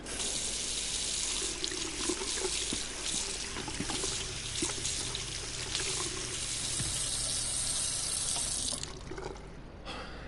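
Running tap water from a sink splashed onto a face in the Twin Mirror video game, a steady close rush of water that continues for about nine seconds before cutting off.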